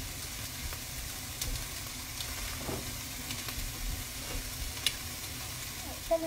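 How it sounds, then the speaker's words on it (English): Leftover turkey and ham or bacon sizzle quietly in a frying pan for spaghetti carbonara, a faint steady frying hiss with occasional light clicks and scrapes, no talk over it. "we need to add the leftover turkey and ham or bacon"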